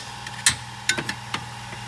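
A metal socket bangs on a shock absorber while it is being replaced on a Mercedes G55 G-Wagon (W463), a few sharp, irregular metallic knocks over a steady low hum.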